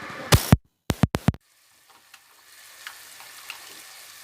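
Two cloves dropped into hot oil for arvi gosht, with black pepper and whole spices: a few sharp, loud knocks up close, then a faint, steady sizzle of frying.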